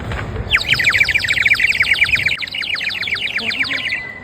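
A ceramic water bird whistle imitates birdsong with a loud, rapid warbling trill that runs almost continuously for several seconds against background noise, with no talking.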